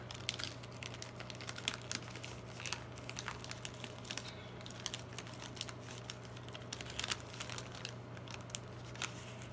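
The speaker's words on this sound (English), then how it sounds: "So I'm going to try to loosen that tape a little bit." Gift wrapping paper crinkles and crackles softly as tape is loosened from it, a faint close run of small irregular ticks and rustles over a low steady hum.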